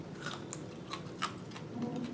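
Crunchy Indian jujube fruit bitten and chewed up close, a series of sharp, separate crunches spaced unevenly over about two seconds, with no talking.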